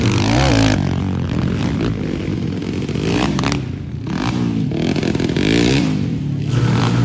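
Honda XRM motorcycle engine revving hard during a local enduro motocross race, loud and close with rising and falling pitch sweeps, rough mechanical clatter and some scraping noise, no talk heard.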